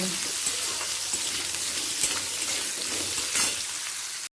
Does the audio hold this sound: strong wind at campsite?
no